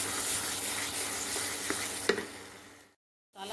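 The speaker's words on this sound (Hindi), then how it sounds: "मसाला काफ़ी अच्छे से भुन रहा है" Masala with tomatoes roasting in a pan, a steady close sizzle with scraping stir strokes throughout, a sharper clink near the end, then a brief silence before the frying returns.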